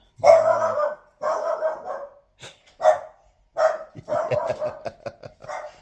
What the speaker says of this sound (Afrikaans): Die hond, hulle is altyd blaf.